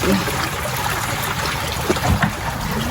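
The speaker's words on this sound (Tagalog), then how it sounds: "ngayon po ay si Bossing ngayon. Pinalalabas na po niya itong tubig." Water pouring out as a crab pond is drained and its water replaced, a steady broadband rush and trickle that stays fairly loud and continuous throughout, with faint outdoor background.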